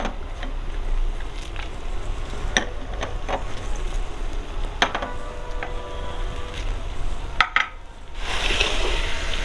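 A spoon scrapes and stirs grated carrot halwa with sugar and dry fruits in a metal pan, giving steady soft rustling with occasional sharper clinks against the pan over several seconds.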